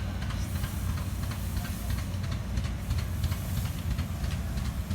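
An antique steam engine at a show of veneer machines, tractors and flywheel engines, giving a continuous, loud hiss over a low rumble that holds steady throughout.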